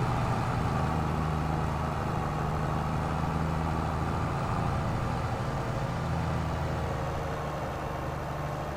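A tractor engine idles steadily in Farming Simulator 22, a continuous low rumbling drone at an even level throughout, with no other sounds standing out.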